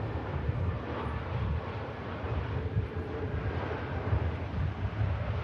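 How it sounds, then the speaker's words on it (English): An easyJet Airbus A320neo touches down on runway 05 Left at Manchester Airport, heard as a steady, fairly faint low rumble with a broad wash of noise that holds evenly throughout. "EasyJet A320neo just touching down"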